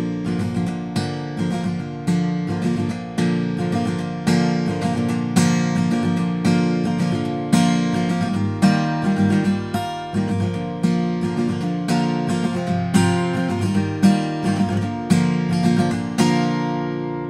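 An acoustic guitar plays the last verse of a song at a brisk tempo, with strummed chords pulsing in a steady rhythm, close and full, with no voice.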